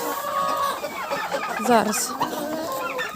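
Chickens clucking in a winter poultry yard during feeding, several short calls and squawks close by, mixed with a person speaking over them.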